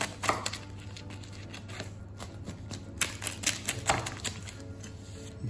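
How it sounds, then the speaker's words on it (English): Crispy crust of a cheeseless vegan pizza made from extra-long cold-fermented dough, bitten and chewed up close, giving a run of sharp crunchy cracks over a low steady hum with no talking. "hear how crispy that is."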